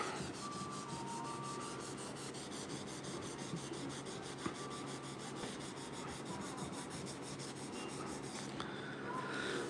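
Hand sanding of the front grill on a 1968 Chevrolet C10 pickup with 400-grit sandpaper, steady close rubbing strokes in an even rhythm, with no talk.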